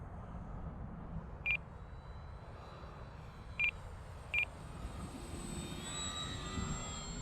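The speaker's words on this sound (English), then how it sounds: "I'm gonna try a slow pass here with the takeoff flaps." A model airplane makes a slow, low pass with takeoff flaps down, its engine a faint steady drone that swells toward the end, with three short electronic beeps heard along the way.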